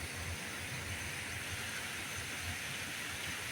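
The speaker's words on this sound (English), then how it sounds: "maybe you can hear the river down there" River flowing somewhere below, recorded on a cheap phone, giving a steady broadband rush of water that stays even and continuous with no voices.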